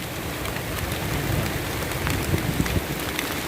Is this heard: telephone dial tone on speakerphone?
no